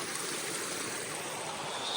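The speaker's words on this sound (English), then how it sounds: "It's fresh snow runoff." Ice-cold fresh snow runoff stream flowing steadily, a continuous close rushing and trickling of water with no pause, heard alone.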